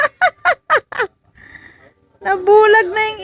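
A bird squawking in five quick loud honking calls in a row, then a short quiet pause with faint noise, followed by longer harsh cries close by, with speech nearby.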